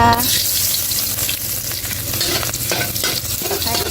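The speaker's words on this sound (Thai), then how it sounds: "ใส่กระเทียมสับลงไปเลยนะคะ" Minced garlic sizzles steadily in hot oil in a wok, with scraping and stirring noises running through the frying. No one speaks.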